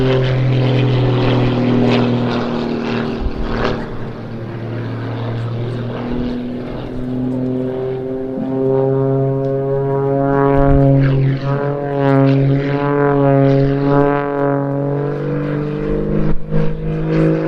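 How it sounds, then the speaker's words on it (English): A propeller aircraft doing aerobatic spins at an air display, its loud engine droning continuously with a rising, wavering pitch as it spins. "There's the first of the spins, and there's the"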